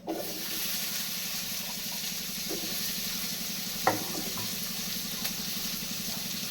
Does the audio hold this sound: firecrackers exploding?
no